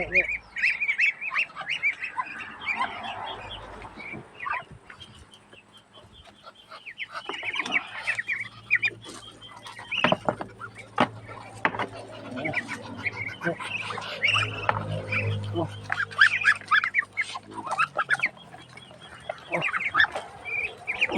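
Pet ducks quack and call repeatedly, close by and at varied volume, as they are fed finely chopped banana trunk outdoors, with other birds chirping around them.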